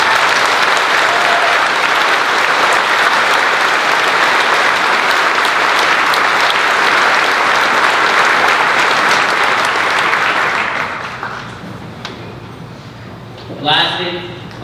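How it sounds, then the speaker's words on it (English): Loud, sustained applause from a high school graduation crowd in Bridgeport, Nebraska fills about ten seconds, then fades to scattered claps and a brief cheer. "I believe he deserves a round of applause."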